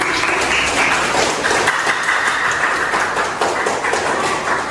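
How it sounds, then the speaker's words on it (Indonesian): An audience in a classroom applauds, a dense, steady wash of clapping that runs loud and unbroken for several seconds. "Tepuk tangan dulu biar lebih semangat."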